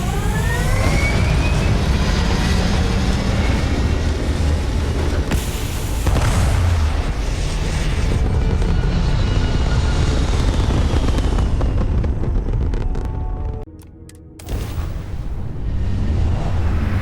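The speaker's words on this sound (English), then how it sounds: "All thrusters firing." Spaceship thrusters firing in the video game Starfield produce a loud, sustained roaring rumble with a heavy low end, continuous throughout apart from a brief dip near the end, with no talking.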